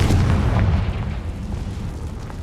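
A Confringo fire spell explodes in Hogwarts Legacy, a loud, deep boom that rolls on as a rumbling blast with no talk over it.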